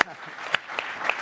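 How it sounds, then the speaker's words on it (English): Brief burst of audience applause at a policy conference in the Detroit region, a short scatter of claps heard amid room noise lasting about a second. "Let's give an applause for that too."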